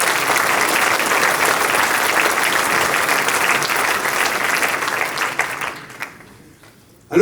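Audience applause at a mayor's New Year greetings ceremony, a steady, dense wash of many hands clapping for several seconds before thinning out and fading to near silence.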